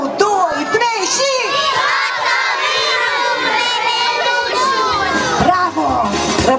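Children in a theatre audience shout together at a live show, a loud, sustained chorus of young voices close by that fills the whole stretch.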